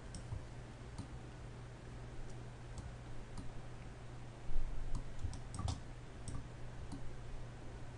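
Mouse clicks from texture painting in Blender, sounding as faint, sparse ticks scattered over a quiet, steady background hum with no talking.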